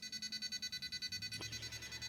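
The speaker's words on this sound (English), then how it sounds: "excuse the beeping" Rapid electronic beeping pulses steadily, about ten beeps per second, from an RC rock crawler's servo setup electronics, with a brief click partway through and a low hum rising underneath.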